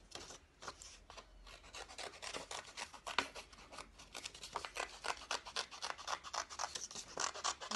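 Scissors cutting through folded paper to make a heart template, a close, rapid series of crisp snipping and rasping strokes repeating steadily throughout, with no voices.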